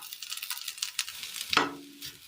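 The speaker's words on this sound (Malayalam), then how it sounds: "ഇതിലേക്ക് നമ്മൾ വേവിച്ച് വെച്ചിരിക്കുന്ന പിണ്ടി ഇട്ട് കൊടുക്കാം" Cooked banana stem drops into a hot pan in a Kerala kitchen and is stirred: a crackling sizzle with scraping stir strokes and a short clatter midway, close and moderately loud.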